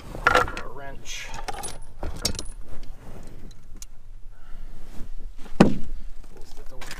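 Metal clinks, jangles and taps come from a wrench on the battery terminals of a 2015 Dodge Dart, close and irregular, with a sharp clank partway through and some speech alongside.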